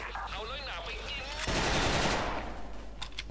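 FN FAL rifle fire in a first-person shooter game comes as a sharp burst of shots with a rattling tail, preceded by faint game sounds and a voice.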